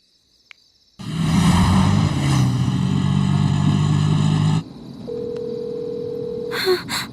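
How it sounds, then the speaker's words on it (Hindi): A loud, steady electronic phone ringtone sounds for several seconds at night, then stops; quieter background noise and a brief beep follow. "इतनी रात में किसका फोन आ रहा है?"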